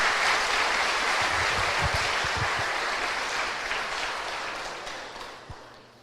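Sustained applause from a worship congregation at a Portuguese-language church service, a dense wash of clapping that slowly tapers off toward the end.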